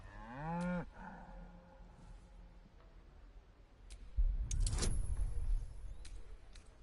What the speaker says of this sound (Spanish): ¿Tú puedes comprender lo que dice la vaca?